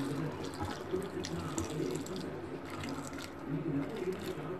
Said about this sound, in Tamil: தண்ணி கொஞ்சம் நிறைய வைக்கணும்.